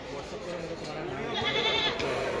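Goat bleating at the Deonar goat market, a wavering cry rising in the second half over busy crowd chatter and background voices.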